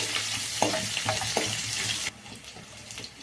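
Chillies fry in a pan with a loud, close hiss and a few clinking stirs, then the sizzle drops sharply to a quieter simmer partway through.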